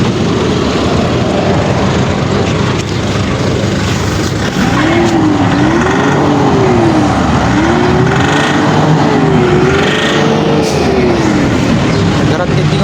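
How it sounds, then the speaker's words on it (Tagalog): A Ford Everest engine with a fuel knocking fault runs in a shop, a loud steady rough idle with a wavering tone rising and falling midway, no clear talk over it. "Fuel knocking at mausok mga boss."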